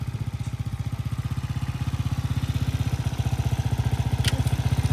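A motorcycle engine idles steadily and close by during a beginner riding lesson, a fast even low-pitched pulse holding constant throughout with a faint clatter.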